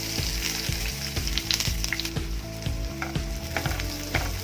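Onion frying in hot oil in a pan with cumin seeds, cinnamon stick, cardamom and cloves, a steady close sizzle broken by regular scraping stirs of a spoon, with no talk.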